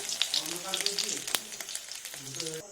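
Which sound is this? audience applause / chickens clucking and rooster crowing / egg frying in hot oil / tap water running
egg frying in hot oil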